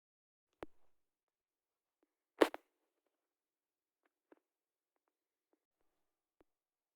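An airsoft gun fitted with an Italian-made custom hop-up bucking fires a few short, sharp snapping shots, spaced apart and faint against near silence.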